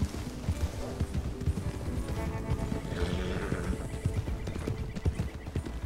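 Hooves thud in a quick rhythm and a horse neighs in a video game set on a ranch with wild Kentucky Saddler horses, the gallop loud and close with the whinny in the middle.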